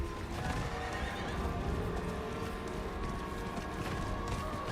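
A horse whinnies in the video game Diablo IV amid a dense, busy soundscape, with hoofbeats clopping and a steady rumbling bed throughout.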